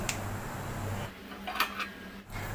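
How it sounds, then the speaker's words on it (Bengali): A metal lid lifted off a pot holding a steamed eggless mango semolina cake, a soft scrape and a couple of light clinks over a low background hum. "এখন আমি ঢাকাটা খুলে একটু চেক করে নিচ্ছি।"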